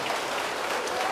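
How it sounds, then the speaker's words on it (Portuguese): Church congregation applauding, a dense, even burst of many hands clapping close by, heard alone. "a melhor salva de palmas, porque isto foi testemunhado por todos."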